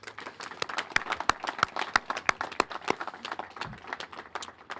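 Audience applause for teachers during a live event at the Minnesota Zoo's Treetop Trail, with a group of people clapping steadily for several seconds and sharp individual claps standing out from the dense patter.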